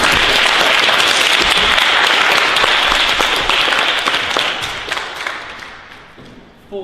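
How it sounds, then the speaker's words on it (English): An audience at a product presentation event claps loudly in a dense, sustained burst that gradually thins and fades over the final seconds, with no speech over it. "could you all give yourselves a round of applause?"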